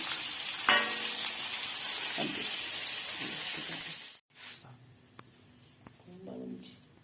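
Egg-coated chicken wings go into very hot oil, a dense crackling sizzle that drops off abruptly as the heat is lowered, then a quieter bubbling fry with faint clicks.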